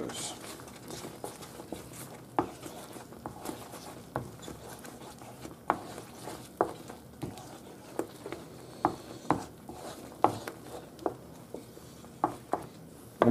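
Serrano ham being stirred in a pan for croquettes, a steady sizzle under irregular scraping taps of the utensil against the pan, soft and close, with no talking.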